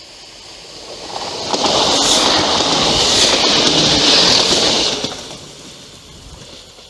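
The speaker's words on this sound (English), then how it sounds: "Coming up the other way is the train heading back up to Exeter." A train bound for Exeter passes along a coastal line by a river estuary. It builds from a distant rumble into a loud, close rush with rail clatter, then fades away.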